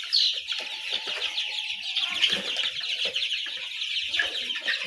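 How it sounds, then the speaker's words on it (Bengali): Roosters and chickens at a poultry farm that also keeps quail cluck and call continuously, several birds overlapping at close range with bursts of wing flapping and no talking. "মোরগগুলো বাঘ দিতেছে, ডাক দিতেছে।"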